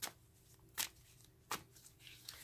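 A well-worn tarot deck is shuffled in quiet bursts, with three or four soft riffling flutters spaced roughly every three-quarters of a second, close and faint, without talk.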